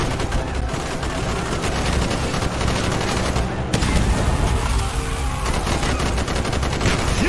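Heavy covering gunfire in Call of Duty: Black Ops during a street fight, rapid automatic bursts layered with booming shots, loud and relentless across the whole stretch with a sharp jump in intensity midway.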